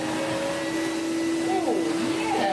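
A Goblin Omni 1000 vacuum cleaner runs close by on a floor with a steady whining motor hum and a rushing airflow, its pitch wavering slightly as it is pushed around, with a voice briefly heard over it.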